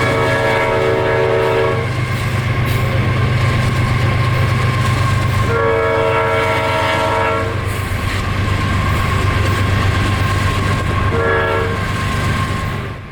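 A CSX freight train blasts through downtown Bushnell late at night, its horn sounding in three long blasts over a constant heavy rumble of engines and wheels.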